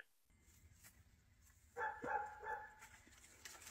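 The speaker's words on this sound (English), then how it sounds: "Don't you just love the sound of the rooster and the dog barking in the" A dog barks in the background outside a home, a few faint, distant yips and barks over a low steady hum, with no talk.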